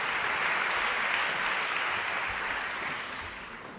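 An audience applauds someone speaker at a talk, a dense steady wash of clapping that holds and then fades slightly toward the end.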